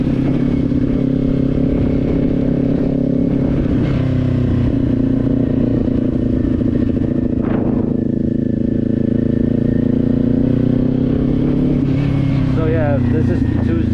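Motorcycle ridden in high winds, a loud continuous engine drone buffeted by roaring wind noise, with a voice talking over it.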